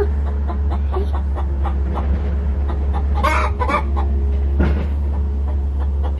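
Hens cluck and call through steady farmyard background hum, with a brief louder squawk midway; one hen in the flock is poorly.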